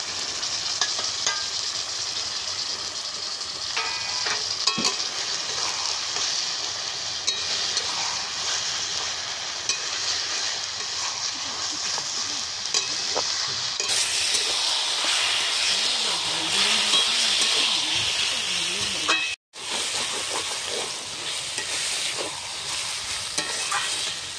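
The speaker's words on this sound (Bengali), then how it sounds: "নাড়তে নাড়তে আমার ভেজে রাখা ইলিশ মাছের মাথাটা দিয়ে দিচ্ছি।" Elephant-foot yam stalks are stirred in a frying pan with a fried hilsa fish head. A steady close sizzle runs throughout under repeated scraping strokes, briefly cut off near the end before resuming, with no talking.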